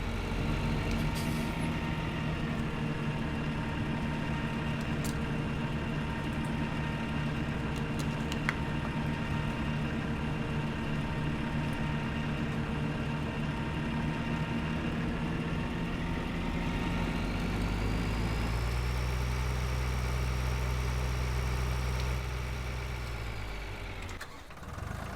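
Small tractor in Farming Simulator 2013, its engine idling in a steady low drone, then the pitch shifts down and revs rise before it fades near the end, with no talk.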